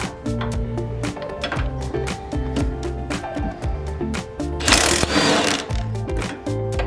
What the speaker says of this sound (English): now I'm gonna loosen the bolts that are on the side.